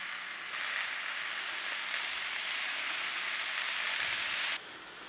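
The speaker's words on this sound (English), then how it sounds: "So we're going to go in there with some of our streaky bacon" Streaky bacon sizzling in a red-hot pan for a Uruguayan chivito, a steady close hiss that starts suddenly, holds evenly for about four seconds, then cuts off, with no talk.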